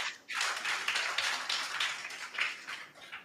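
A round of applause from an audience at a junior high school contest between Our Lady of Peace JHS, Bimbilla, and Dahin Shelli M/A JHS: dense, fairly soft patter of many hands that holds steady throughout.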